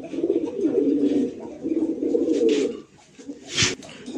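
King pigeons coo in two long, rolling bursts close at hand, followed by a brief pause and a sharp click.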